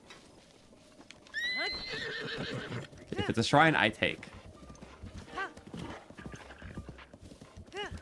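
Horse neighing and hooves clip-clopping in The Legend of Zelda, a whinny rising early followed by steady galloping hoofbeats, with a player talking over the game sounds.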